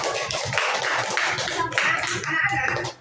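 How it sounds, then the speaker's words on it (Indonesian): Children in an Indonesian classroom clap their hands together in a loud, dense burst of claps that runs steadily for about three seconds, then cuts off sharply at the end. "Oke, tepuk tangan dulu."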